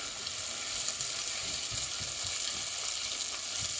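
Onion cooking uncovered over medium heat in a pan for a paneer makhani curry, giving a steady, close hiss of sizzling with faint stirring taps and no voices.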